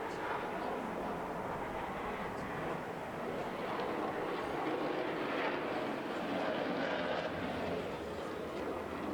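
Jet aircraft at the Seafair airshow, a broad distant roar that holds steady throughout, with faint talk in the background.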